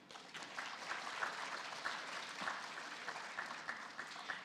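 A banquet audience claps for FFA members whose names have just been read out, dense sustained applause at moderate level holding steady from start to finish.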